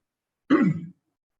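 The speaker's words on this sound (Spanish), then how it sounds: "me escuchan de pronto toser tanto" A single short, raspy throat-clearing cough, close and fairly loud, alone in silence.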